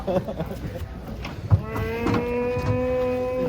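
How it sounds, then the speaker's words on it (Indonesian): A cow moos once with a long, sustained low call lasting a couple of seconds, among cattle lined up at a crowded livestock market where huge bulls are unloaded from trucks, over a background of crowd murmur and brief thumps. "Belakang ada sapi"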